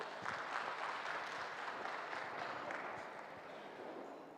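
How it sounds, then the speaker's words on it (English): Sustained audience applause fills an indoor sports hall during a public hearing on an older persons amendment bill in Queenstown, a dense steady clatter of many hands holding fairly level before easing slightly at the end. "We can give him a round of applause."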